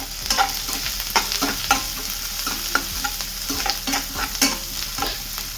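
Chopped onion and green chilli sautéing in a pan, steady sizzling broken by repeated sharp scrapes and clicks of a spatula stirring, close and moderately loud with no voices.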